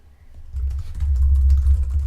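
Keys clatter steadily on a computer keyboard while someone writes Python code, a close, continuous run of quick taps after a brief quiet start.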